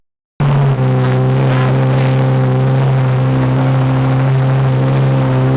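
A car engine starts with a brief catch, then settles into a loud, steady idle with a low hum and harmonic drone close to the mic.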